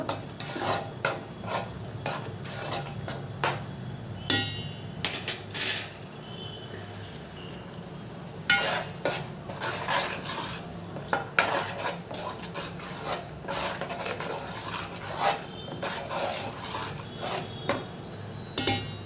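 Tomatoes for a spicy fish curry fry in a pan while being stirred, with dense, rapid scraping and clinking of a utensil against the pan over a low sizzle. A brief quieter pause comes midway.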